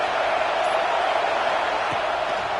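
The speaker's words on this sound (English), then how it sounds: "It's early, but this crowd is fired up. Listen to this noise here." Stadium crowd at a football game roars in a steady, dense wash of noise that holds loud and unbroken from start to finish.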